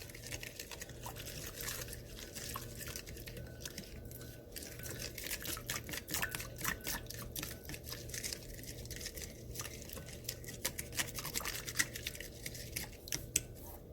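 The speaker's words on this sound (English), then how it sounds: "you're going to stir it until all the seasoning is dissolved with the orange juice" A spoon stirs salt-free seasoning into orange juice for a Caribbean jerk pork marinade, making a steady run of quick clinks and scrapes against the container that carries on for about fourteen seconds without any talk.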